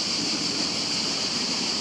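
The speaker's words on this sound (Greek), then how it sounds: "Εδώ είναι το μέρος που έχει και νερά που είπαμε." Water rushes steadily along a stream at a stop during a motorcycle ride, a close, continuous hiss and gurgle with no break and no one talking.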